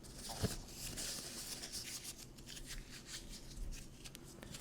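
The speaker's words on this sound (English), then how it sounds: "It's incredible, really, what you can do with a sheet of paper." A single sheet of paper being handled up close, with crisp crinkling, rubbing and rustling that flickers unevenly for several seconds and is fairly quiet, with no talking.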